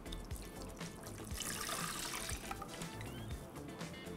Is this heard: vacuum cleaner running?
no